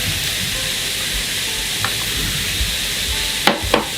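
Fish cake stir-fry with mushrooms and chives sizzles steadily in a pan, a constant close frying hiss broken by a few scraping stirs and two sharp utensil clinks near the end; no talk.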